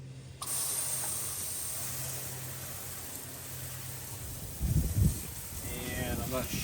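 Water sprays steadily across a wooden deck as a continuous close hiss, with a brief louder splashing patch near the end and faint speech in the background.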